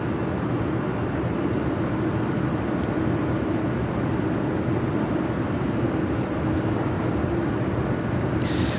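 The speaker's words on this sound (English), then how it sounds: "Wow, that A380, that was heavy. Using almost all the runway." An Emirates Airbus A380 at LAX on its takeoff roll, heavily loaded and using nearly the whole runway: a loud, steady, broadband jet roar that holds unbroken throughout, with no voices.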